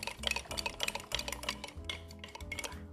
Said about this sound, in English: So let's stir that about.